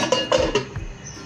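A metal lid goes onto a cooking pot of Bengali-style egg curry, a few quick clanks and scrapes close by, then quiet simmering.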